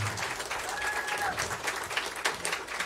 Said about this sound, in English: how about a nice round of applause for the great Hans Verhoeven on the drums this evening